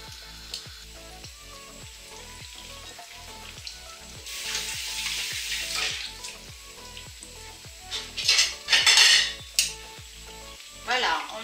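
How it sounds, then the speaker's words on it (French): Balls of stale bread dipped in egg fry in a pan, crackling steadily up close with a series of sharp, regular pops and bursts of louder sizzle near the end; no one speaks. "on mouille dans l'œuf comme on peut et on les met à la poêle"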